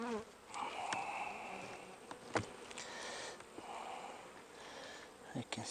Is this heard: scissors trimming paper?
no